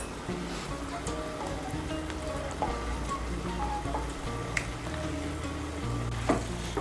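Fried eggplant and pabda fish are stirred into a simmering curry, giving a continuous bubbling sizzle with scattered spoon scrapes and taps. It is close and fairly even, with a faint tonal backing underneath.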